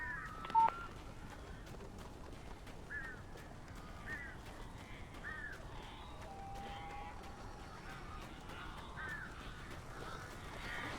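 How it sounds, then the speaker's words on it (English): Crows in the video game Alan Wake caw repeatedly in short harsh calls, spaced a second or two apart over a low ambient hum, moderately close and fairly faint, with a brief loud tone near the start. "These birds are weird."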